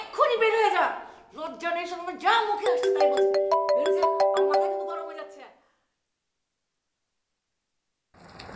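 An incoming call sets off a mobile phone ringtone, a bright repeating melodic tune heard over and after people talking, then stopping abruptly into silence.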